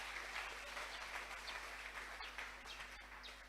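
Audience clapping at a church gathering honoring Bishop Samuel Ajayi Crowther, a steady, dense patter of many hands heard from some distance for about three and a half seconds, with faint bird chirps over it and no talk.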